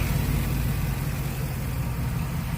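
A 1998 Chevy Suburban's 5.3 V8 engine, with upgraded rocker arm trunnions, idles with a steady, deep rumble close by, unchanging throughout the short stretch.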